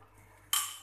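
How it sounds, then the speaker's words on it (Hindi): Omelette mixture hits hot ghee on a griddle, a sudden close hiss of sizzling that bursts on halfway through and carries on steadily. "ये आपको आवाज़ आ रही है, इसका मतलब है कि घी अच्छा गर्म हुआ है और तवा भी हमारा गर्म है"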